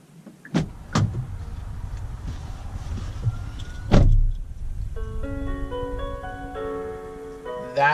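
Inside a 2015 Hyundai Sonata, a few door and lock thumps come first, then the car's welcome chime plays a short, bright, tonal melody of stepped notes for several seconds, close and clear.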